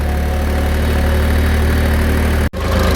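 A tractor engine hauls two heavily loaded trailers, the front one a four-wheeled cart, on an open empty road, its steady low drone holding throughout with a brief dip near the end.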